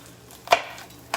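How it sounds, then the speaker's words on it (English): Two sharp knife chops on a cutting board while dicing vegetables, spaced about half a second apart, close and crisp. "it turns into an easy way just to dice it up"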